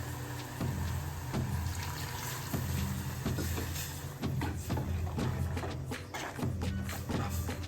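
Water pours steadily into a pan of bitter gourd palya seasoned with peanut powder, turmeric and salt, a continuous close splashing rush with light rhythmic sloshing throughout.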